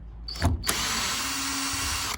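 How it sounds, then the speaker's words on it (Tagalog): A power drill whirs continuously loosening screws on a washing machine under repair, close and fairly loud after a couple of short bursts and clicks at the start. "meron pong tatlong screw dito. Kailangan lang nating luwagan."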